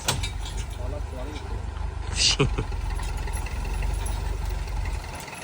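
A farm tractor motor idles with a steady low rumble in the field at sowing time, while people talk over it and a short sharp clack cuts in once.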